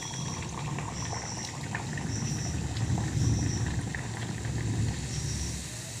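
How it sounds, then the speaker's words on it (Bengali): Ajwain luchi fry in hot ghee in a kadai, giving a loud, continuous bubbling hiss with faint crackles close by. "কড়াতে ঘি গরম হয়ে গিয়েছে। এবার একটা একটা করে লুচি ছেড়ে দেব।"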